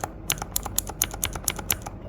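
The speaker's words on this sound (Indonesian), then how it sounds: "Clicky itu sama seperti tactile, namun dia memiliki bunyi klik yang high pitch." Clicky mechanical keyboard switches are pressed repeatedly, about nine crisp, high-pitched clicks at a steady, quick rhythm, close to the microphone with no talk.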